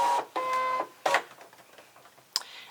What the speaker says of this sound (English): So I'm going to press the load mat button,